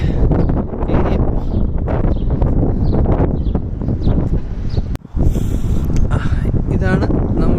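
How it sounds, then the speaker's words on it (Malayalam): Strong, cold wind buffets the microphone outside a house in Canada, a loud, rough roar that gusts unevenly, with a brief dropout near the end and possible muffled voices underneath. "അയ്യോ, നല്ല കാറ്റ്."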